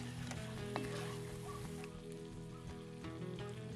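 Lamb meat goes back into a pot for a Mallorcan stew and gets stirred, giving a soft, close sizzle with light scraping and a few small taps of a utensil against the pot.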